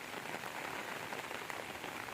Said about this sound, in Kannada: ಚೆನ್ನಾಗಿ ಬರ್ತಿತ್ತು ಮಳೆ